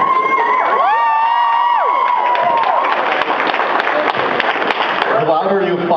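Convention audience cheering, whistling and clapping loudly throughout, with shouts rising over a dense crowd roar that stays strong to the end.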